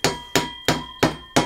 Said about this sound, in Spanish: con unos buenos golpecitos, con una maza de goma, con un martillo y con este clavo